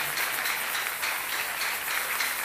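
A church congregation at a Sunday service applauds together, a dense, continuous clatter of many hands clapping at steady strength from start to finish.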